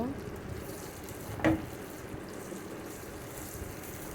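Hilsa fish tail pieces fry in a pan with a soft, continuous sizzle and hiss, broken once by a short clatter partway through.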